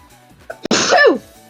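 A single sharp human sneeze bursts out close and loud after a brief intake of breath, standing alone.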